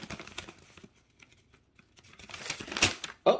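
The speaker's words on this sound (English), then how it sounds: "Oh, I ripped the paper." Paper tearing and crinkling while a round-drill 50 by 50 diamond painting kit is unboxed, quiet rustles building to a louder rip near the end, heard alone without talk.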